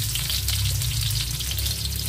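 Garlic sizzles steadily in a hot pan as it browns, a dense continuous crackle with a low hum beneath, close and fairly loud with no talking.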